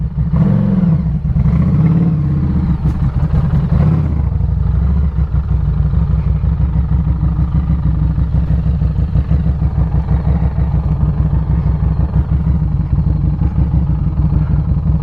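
A Street 500 motorcycle ridden along a road on a commute, its engine droning steadily and loud throughout, with a brief revving surge near the start.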